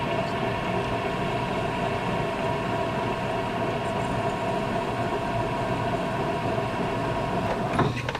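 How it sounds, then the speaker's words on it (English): A South Bend lathe runs steadily while machining a two-stroke engine cylinder, a loud continuous mechanical drone with a constant tonal hum, with a brief scraping burst near the end and no speech. "Get brave, turn the lathe on."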